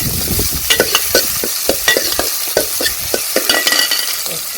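Mustard seeds, cumin, fenugreek, curry leaves, onions and dried chillies fry in oil in a village-style kitchen. Brisk scraping stirs come in a rapid, irregular rhythm over a constant sizzle, loud and close, with no talking.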